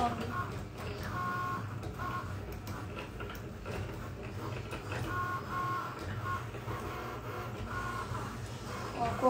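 An electronic craft cutting machine slices carrot shapes from paper for an Easter cake topper, giving a continuous whirring, ticking mechanical hum with rhythmic motor pulses throughout, alongside faint voices.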